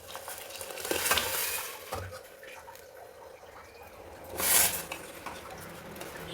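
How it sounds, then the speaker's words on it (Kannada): Cooked lentils being mashed into a raw mango dal in a pot, with wet squelching and scraping strokes that swell in two louder bursts over a quieter bubbling background. "ಬೇಳೆನ ಸ್ವಲ್ಪ ನುಣ್ಣಗೆ ಮಸದ್ಕೊಳ್ಬೇಕು."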